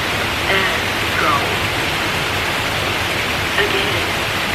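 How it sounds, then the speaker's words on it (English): A waterfall pours in a steady, dense roar of rushing water, loud and unbroken throughout with no voices. "Waterfall."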